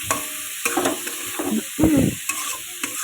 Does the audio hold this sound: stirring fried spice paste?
yes